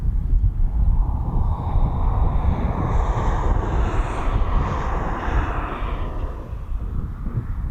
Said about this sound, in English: Alaskan Airlines 787-9 Dreamliner out of London Heathrow going to Seattle.